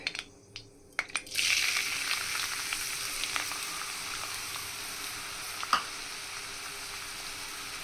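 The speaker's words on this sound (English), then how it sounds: "In a wok, heat the wok, then add onion" Onion goes into a hot wok after a few light clicks and bursts into a steady, hissing sizzle that carries on without pause, close and fairly loud, with an occasional crackle or pop.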